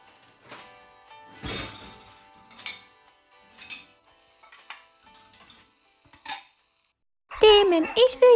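Dishes being unloaded from a finished dishwasher, scattered clinks and clatters of plates and cutlery spaced irregularly, then a louder burst of sound at the end.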